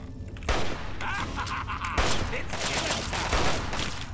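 Assault rifle fire in Fallout 3 rattles in loud, close rapid bursts, with sharp shots at roughly half-second and two-second marks leading into sustained crackling gunfire.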